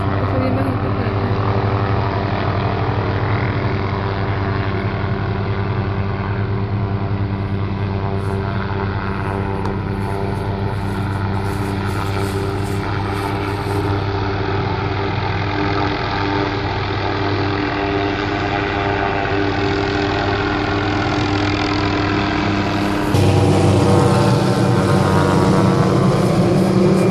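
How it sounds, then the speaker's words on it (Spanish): A helicopter flies low overhead while trimming trees near a house, giving a steady loud rotor drone throughout, with a sharper rise in pitch and level toward the end. "Un helicóptero."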